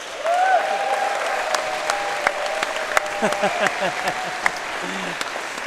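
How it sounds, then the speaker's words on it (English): A crowd at the World Wallball ladies singles final applauds the travelling American team, steady clapping throughout with a few sharper individual claps standing out, while a voice speaks over it. "a big hand to the American team that travelled, 35 representatives"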